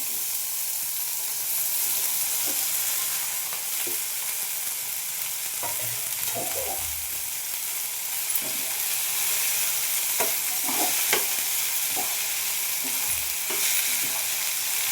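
Okra and tomato fry in a pan on low flame for a South Indian ladies-finger palya, giving a steady close sizzle with intermittent stirring scrapes and clicks of a spoon.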